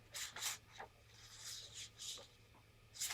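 Scissors cut paper for a craft journal in short hissing snips, several quiet strokes spaced irregularly, close and faint, with no talking.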